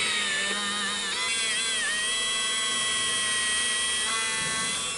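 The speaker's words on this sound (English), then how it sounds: "So I'm gonna take the drill here and go ahead and do the 4 holes, 2 on each side of this front shroud." A power drill bores holes in a headlight shroud, a close, continuous high whine that wavers in pitch as the bit bites.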